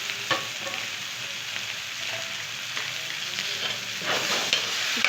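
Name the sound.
stirring tomatoes with spinach and potatoes frying in pan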